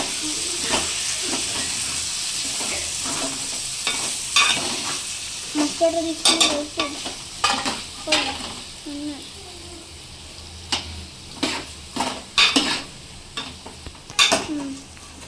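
Chopped tomatoes fry and sizzle in a hot pan while a utensil repeatedly scrapes and clanks against it as they are stirred. The steady close hiss carries sharp, irregular stirring hits, and there is no speech.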